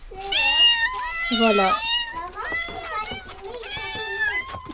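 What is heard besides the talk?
group of cats meowing in a garden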